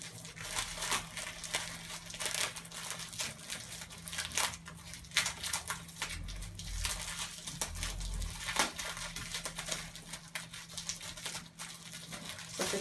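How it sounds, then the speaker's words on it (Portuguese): Adhesive tape is wound around twisted paper to make a homemade shuttlecock, giving quiet, irregular crinkling and rustling with small sticky tearing sounds and no talk. "Torceu bem, você pega a fita adesiva e envolve ela aqui, ó."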